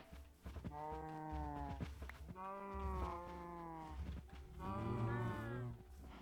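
Three long, loud cow moos from a Minecraft cow, each with a tonal, wavering call, sounding close with short gaps between them and no talk over them.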